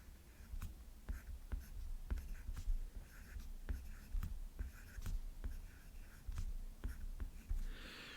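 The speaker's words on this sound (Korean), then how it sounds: "자, 이거 한번 써볼게요. 자, 점선을 따라서 써주시고" Quiet scratching strokes from writing a word by hand along dotted lines on a paper worksheet, in short, regular bursts close to the listener, with a faint whisper of breath in the background.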